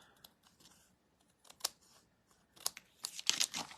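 Scissors cut craft paper while a card and snowman treat container are being made. There are a few faint snips at first, then quicker, louder crisp cuts near the end, with light rustling and no voices.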